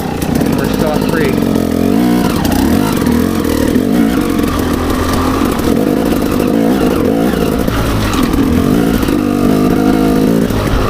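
A motorcycle on a trail revs and labours with a rough, buzzing engine note that rises and dips as gears change, loud and close throughout, with a rider speaking over it.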